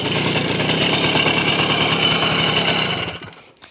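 A Romet Ogar moped's small two-stroke engine runs steadily at a loud, close idle with a rattling, buzzing tone, then cuts out and falls quiet near the end.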